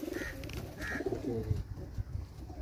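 A pigeon coos in a few soft, rolling phrases at close range, with low background murmur beneath.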